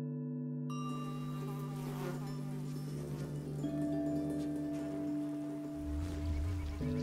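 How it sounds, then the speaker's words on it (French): Blowflies buzz around a dead bison carcass in a steady, droning hum, close by, with the whine shifting in pitch as they move around. "La mouche à viande."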